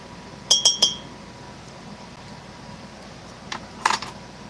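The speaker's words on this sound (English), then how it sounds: "Giving my drink another stir." A spoon stirring a drink clinks sharply against the glass three times in quick succession, then a brief softer pair of clinks follows after a pause, close and clear over quiet room tone.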